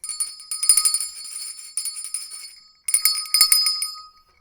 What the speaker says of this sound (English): Rang that bell for you.